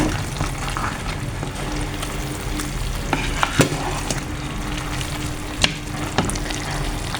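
Lobio, a bean stew, is stirred in a pot: a wet, bubbling, simmering texture with irregular scraping and a few sharp knocks of a spoon against the pot, close and steady.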